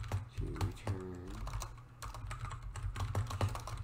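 A computer keyboard clatters with quick, uneven keystrokes, close and crisp, while a voice briefly murmurs early on.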